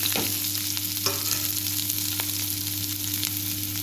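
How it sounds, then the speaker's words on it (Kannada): Mustard seeds, split dals, onion, green chilli and curry leaves fry in hot oil with a steady, close, broadband sizzle, a few sharp crackles and pops breaking through near the start and middle. "ಇದೆಲ್ಲ ಚೆನ್ನಾಗಿ ಫ್ರೈ ಆಗಬೇಕು"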